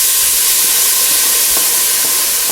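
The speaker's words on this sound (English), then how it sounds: "Butter in the pan." Butter sizzling in a hot pan, a loud, continuous, even hiss that fills the whole moment with no talking.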